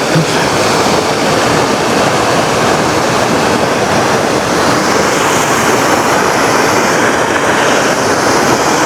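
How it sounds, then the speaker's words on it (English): A small waterfall in a desert garden near Palm Springs rushes as a loud, constant roar of falling water, steady throughout with no pauses and no one speaking. "This is just one of the little waterfalls."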